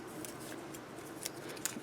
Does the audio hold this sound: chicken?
no